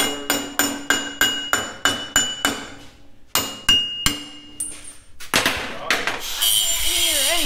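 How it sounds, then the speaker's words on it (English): A claw hammer strikes metal on a large off-road wrecker's lift in a rapid series of sharp, ringing blows, pauses, then strikes again before a clattering, hissing noise takes over. "Claw hammer wins again."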